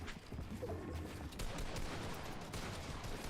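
Faint, scattered gunfire from a video game match crackles in short bursts over a quiet background.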